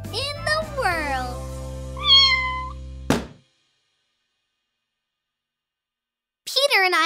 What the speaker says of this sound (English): She is a perfect kitty cat.